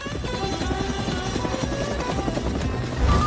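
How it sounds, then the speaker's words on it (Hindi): A helicopter flies close by with a loud, steady rotor and engine buzz that persists throughout. "वाह, उस हेलीकॉप्टर को देखो।"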